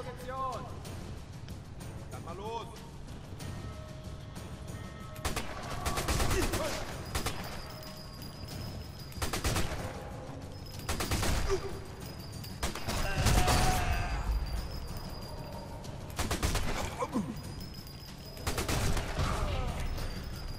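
Gunfire from the Sniper 4 video game at the Lorino Dockyard: several short loud bursts of shots at intervals, over steady game background noise.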